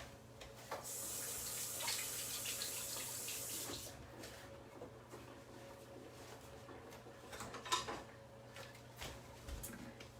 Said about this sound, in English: And rinse the lime juice off my hands.